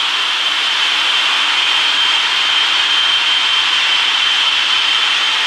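Boeing 777-300ER jet engines on a takeoff roll at Hong Kong in the RFS flight simulator give a loud, steady, hissing roar that holds constant with no talk.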